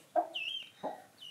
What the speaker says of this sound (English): we have chickens in the house